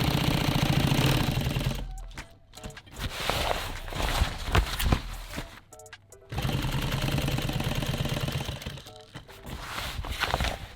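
Sewing machine stitching a nylon tactical clothes bag, long loud runs of rapid mechanical chatter broken by brief pauses and short stop-start bursts, close and without talk.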